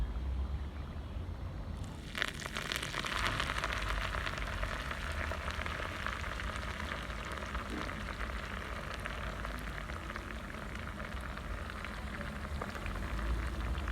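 Coriander seeds drop into hot peanut oil already crackling with sesame seeds for an undhiyu tempering. A sudden burst of sizzle gives way to a steady, fairly quiet spattering hiss that lasts to the end.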